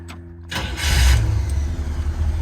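A 1967 Chevrolet Impala SS convertible cranks briefly and fires up, its V8 catching with a loud rising roar before settling into a steady, rumbling idle close by.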